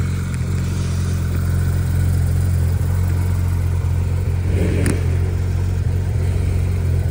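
A Porsche GT3 RS flat-six runs continuously outdoors in Gérardmer, a strong, steady engine drone with a brief rev swell near the end, loud and close.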